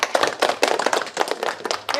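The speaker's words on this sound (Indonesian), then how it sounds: "tepuk tangan dulu untuk Pak Alfi" A small group clapping for Pak Alfi at a gathering, a short run of distinct, slightly uneven hand claps, fairly close and moderately loud.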